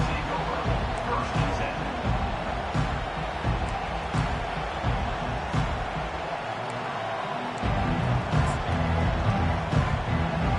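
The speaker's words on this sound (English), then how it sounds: "This crowd bringing an ear-splitting welcome to their visitors" Stadium crowd at a college football game roars and cheers continuously, a dense wall of voices with a brief dip before swelling again, heard alone without clear talk.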